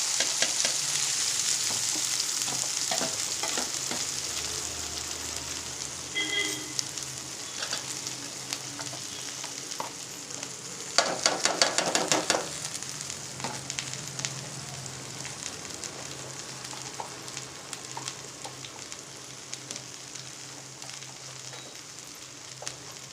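Okra sizzles steadily in a hot pan, with occasional scraping and stirring noises and a brief burst of louder frying partway through.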